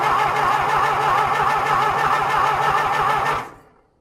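A John Deere tractor engine cranks in a cold winter start, a loud steady rhythmic churning of the starter that runs without a catch, then cuts off abruptly and fades into silence.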